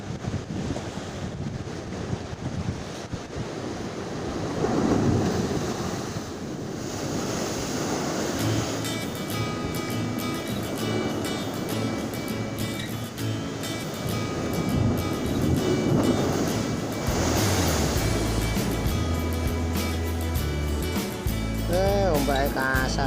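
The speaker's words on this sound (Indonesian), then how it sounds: "ombaknya kasar guys." Rough ocean surf rolls and crashes onto a beach under strong gusting wind that buffets the microphone, with voices talking now and then over the steady roar.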